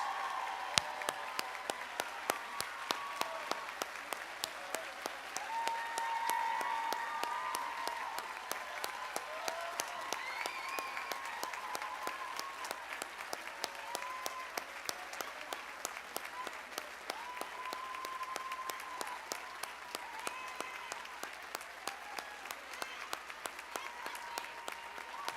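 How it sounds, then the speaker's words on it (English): A graduating class is applauded at a commencement ceremony with sustained, steady clapping from a large crowd, heard from a distance and rolling evenly throughout with faint voices mixed in. "How about one big round of applause for the class of"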